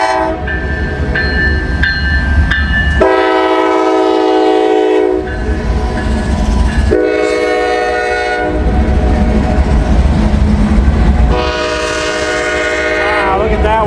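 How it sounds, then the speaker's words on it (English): A grain freight train rolls past close by, loud and continuous, with a rumbling roar, clattering wheels and long blasts of the horn sounding repeatedly over the passing cars. "There is the end of that grain train."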